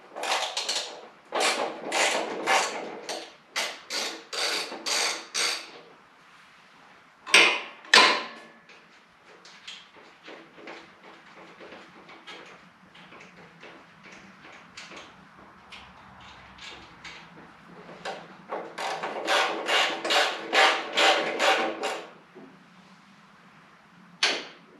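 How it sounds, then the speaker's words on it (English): Wrench turning a nut and bolt off a 1980 Harley Davidson FLT Shovelhead motorcycle, heard as bursts of rapid close metallic clicking separated by quieter stretches of scraping and handling, with no talk. "I should be able to remove this other nut and this bolt"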